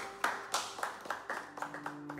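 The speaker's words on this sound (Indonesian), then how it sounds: "Oke, kita beri aplaus untuk Denira." Brief, fairly faint applause for a student in a classroom, a handful of people clapping at a quick, uneven rhythm.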